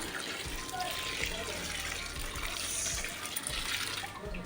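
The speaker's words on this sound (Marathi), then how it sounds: "हे बघा पाणी टाकते आता भाजीमध्ये" Water pours steadily into a pan of raw jackfruit curry, a continuous splashing rush that holds at an even level for several seconds.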